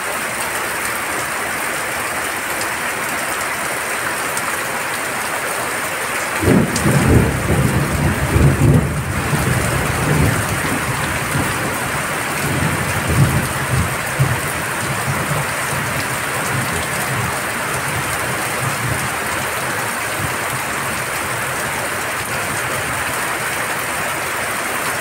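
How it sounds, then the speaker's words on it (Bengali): Steady rain falls through the whole stretch in the early morning, with low rumbling bursts of thunder rolling in around the middle and fading again, all without any voices. "আজকে সকাল সকাল বৃষ্টি চলে আসলো, দেখতেই পাচ্ছ।"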